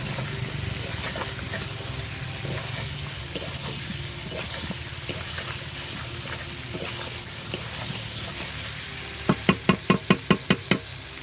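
Chicken pieces frying in a pan over a wood-fired stove, with a steady sizzle throughout and a quick burst of sharp knocks near the end, like a utensil tapping the pan.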